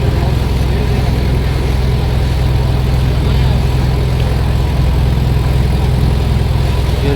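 A boat engine chugs steadily on the river at the Varanasi ghats near Dashashwamedh Ghat, a loud continuous low drone running unchanged throughout.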